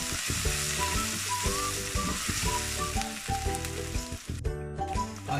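Onion and garlic sauté in hot oil for a shark fish curry, giving a steady bright sizzle throughout, with background music playing underneath.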